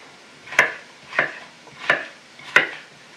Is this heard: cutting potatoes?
yes